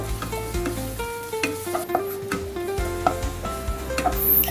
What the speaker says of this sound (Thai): หยอดลงไปหน่อยหนึ่งแล้วก็ตามด้วยสามเกลือลงไปผัดให้หอมเลยครับ